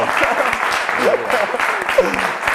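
A quiz show studio audience applauds a team from Lignano Sabbiadoro for a fast correct answer, a steady wash of clapping with voices talking over it.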